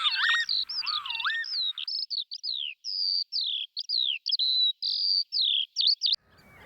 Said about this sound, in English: birds continue to call in